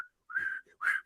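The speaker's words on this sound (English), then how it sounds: "I'm blowing a whistle at home" A whistle blown at home during a Sixers–Celtics basketball game, two sustained shrill blasts with a short gap between them, close to the microphone and loud with no talking.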